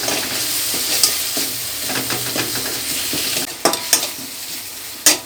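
Mustard paste thinned with a little water being sautéed and stirred in a pan, a loud steady sizzle with repeated spatula scrapes and a few sharp metallic clinks near the end.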